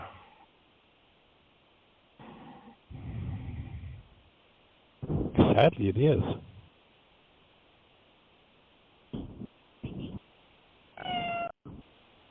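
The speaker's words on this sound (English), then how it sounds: "That was my cat." A house cat meows once loudly and close by in a drawn-out wavering cry, amid intermittent quiet speech over a phone-like line with pauses.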